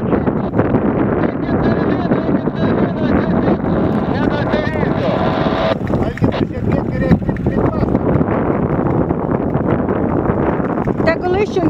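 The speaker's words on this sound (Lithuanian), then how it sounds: "Tegul išjungia variklį." A boat's motor drones steadily out on the water, the rumble mixed with heavy wind buffeting on the microphone while people talk loudly over it.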